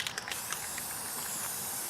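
A spray can hisses in a steady continuous jet, with a few short rattly bursts at the start, held close and fairly quiet, with no talking.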